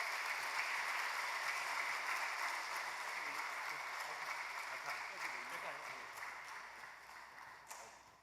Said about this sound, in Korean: 우리 크게 환영하는 뜻으로 박수로 맞이하도록 하겠습니다